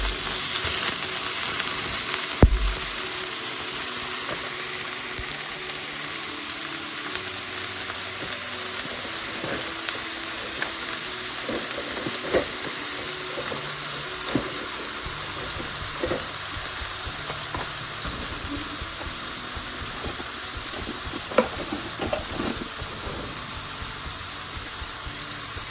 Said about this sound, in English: We're just going to sear the outside of this just a little bit, get the flavor going.